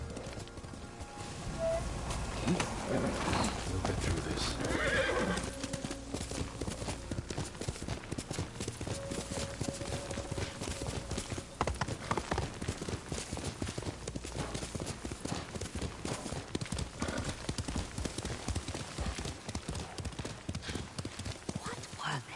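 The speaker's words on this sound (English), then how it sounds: "Horse!" A horse gallops with rapid, steady clip-clop hoofbeats in the video game Ghost of Tsushima, running continuously over a busy game soundscape, with a brief neigh early on and characters speaking over it.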